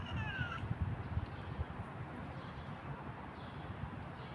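Street cat meowing outdoors during a morning walk, a short, clear mew near the start over steady outdoor background noise.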